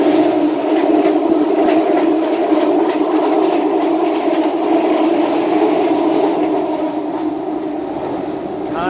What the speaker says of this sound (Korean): 지하철 달리는 소리가 요란해서 지하철 지나갈 때는 말을 중단하고 있습니다